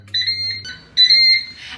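A Ninja Speedi grill beeps as its cook time ends, giving two sustained electronic tones, each near a second long, loud and close with a short gap between them.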